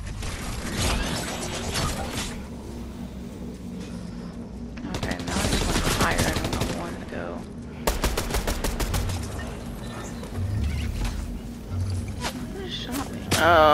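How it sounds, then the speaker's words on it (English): Fortnite gunfire crackles in rapid repeated bursts, machine-gun-like rattles mixed with mechanical clicks that recur over several seconds at moderate loudness, while players' voices talk over the shooting. "They're still shooting at me."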